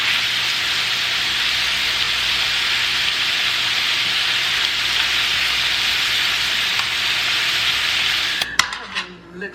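Food sizzles in a frying pan at home, a loud, steady hiss that runs unbroken for several seconds before a few clinks and clatters of a utensil at the end.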